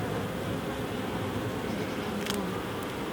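Dense buzzing of many honey bees hums steadily and close, a constant droning swarm with one brief sharper rustle midway.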